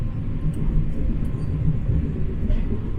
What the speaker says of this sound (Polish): Właśnie dojechałam pociągiem z Jersey